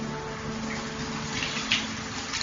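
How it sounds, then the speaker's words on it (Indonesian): Shower running in a bathroom, a steady close hiss of falling water with a brief louder splash partway through. "Aku mematikan shower lalu handukan."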